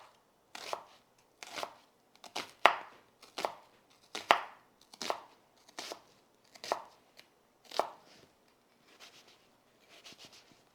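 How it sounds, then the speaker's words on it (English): A mezzaluna rocks through red onion, garlic and thyme in about ten crisp, evenly spaced chops on a board, close and clear, tapering to softer taps at the end. "So we're just going to put them all in the mezzaluna and chop them together."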